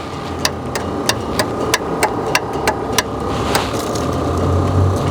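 A Rolls-Royce starter clicks in a rapid, regular series of sharp ticks while the engine fails to start, with a low mechanical hum underneath that grows slightly toward the end.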